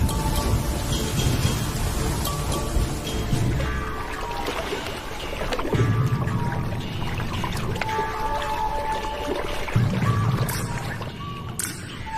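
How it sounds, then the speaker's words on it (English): Heavy rain pours steadily in the African wild, a dense continuous hiss of water falling on the ground and into hollows, loud and unbroken throughout with faint swells. "The first real rains for a year."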